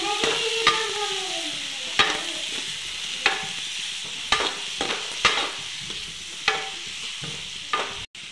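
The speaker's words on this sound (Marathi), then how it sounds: "व्यवस्थित मिक्स करून घ्यायची भाजी." Village-style cowpea pod bhaji being stirred in a kadhai, a spatula scraping the pan in about eight distinct, evenly spaced strokes over a soft, steady sizzle, close and alone.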